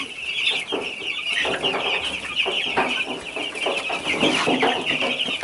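Chickens cluck steadily inside a coop, a dense, continuous chorus of overlapping clucks and squawks at close range with no talking.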